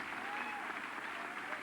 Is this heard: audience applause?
yes